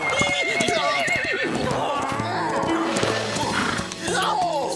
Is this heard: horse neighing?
yes